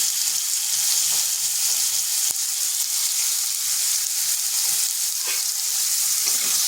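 Potato pieces fry lightly in a pan with a little salt and turmeric for a vegetarian flat bean dish, giving off a continuous, close sizzle with a few faint stirring scrapes and no voices.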